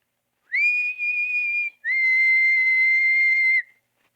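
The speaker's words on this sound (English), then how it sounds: "I put my head out and whistled softly" A person leans out of a window and whistles softly, two sustained clear tones, the first with a slight wavering pitch and the second held longer at a steady lower pitch, close against silence.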